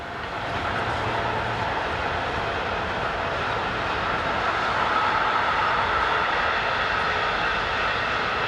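An intermodal freight train hauled by electric locomotive 182511 passes on the main line between Northeim and Hannover in Germany. Its steady, loud rumble and roar of wheels on rail fill the whole span without any break.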